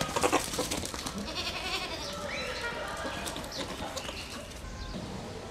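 A goat at a zoo bleats amid a busy outdoor background with other animal calls, and a voice speaks over it.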